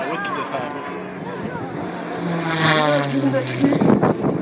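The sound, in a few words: Rob Holland's aerobatic propeller airplane at an airshow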